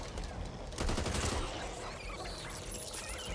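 Sustained bursts of automatic gunfire in the co-op zombie shooter Back 4 Blood, loud and near, swelling around the first second and continuing as a steady rattle alongside game noise.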